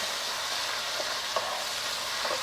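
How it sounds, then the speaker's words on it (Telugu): Raw shelled prawns fry in a pan with a soft, even sizzle, broken by a few faint stirring scrapes, quiet and close with no talking. "వేయించుదాం."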